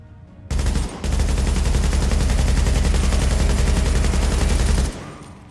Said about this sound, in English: here you can see how my Pecan, with its low stability, likes to pull up dramatically when fired for a long time